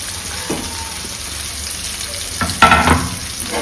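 Chopped garlic and other ingredients sizzle and fry in a hot pan for a Kerala-style egg curry, a steady close crackle with a louder burst of hissing as more food goes in and is stirred.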